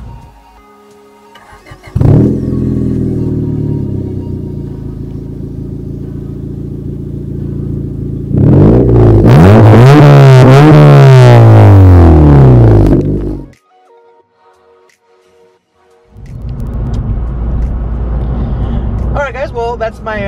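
A 2017 Honda Civic Hatchback with a loud aftermarket fart can exhaust starts up and idles, then revs hard in rising and falling sweeps before cutting off, and after a brief pause the engine rumbles again, close and loud throughout.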